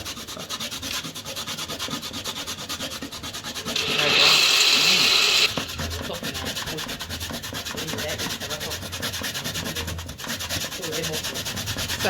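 Sweet potato being grated by hand for Jamaican-style sweet potato pudding, a steady rough rubbing and rasping that runs through the whole stretch and grows louder and harsher for a short burst near the middle.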